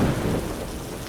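Steady rain falls with a low rumble of thunder rolling beneath it, loud and continuous through the whole stretch with no voices present.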